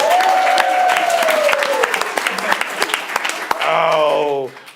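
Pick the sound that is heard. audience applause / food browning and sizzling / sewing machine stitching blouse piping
audience applause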